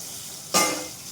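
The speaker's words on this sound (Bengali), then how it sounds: "এখন আমি ভাজা ভুজে করছি এগুলো, বুঝলে? ভেন্ডি ভাজা হয়ে গেছে, পটলটা ভাজা করছি।" Pointed gourd (potol) frying in a pan, a sudden burst of sizzling that starts partway through and slowly fades over steady background hiss, no talking.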